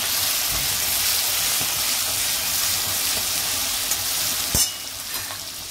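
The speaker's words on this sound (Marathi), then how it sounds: "तेल तापलेलं आहे। हा आता जादूचा ठेचा टाकतो। चांगला भाजून घ्यायचा।" Thecha chutney fries in hot oil with a continuous dense sizzle, close and fairly even, with a brief clatter near the end.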